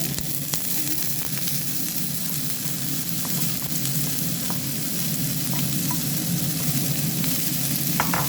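Green peas and carrots fry with onions in a pan, giving a steady, loud, dense sizzle that runs unbroken throughout, with faint scattered pops and light stirring.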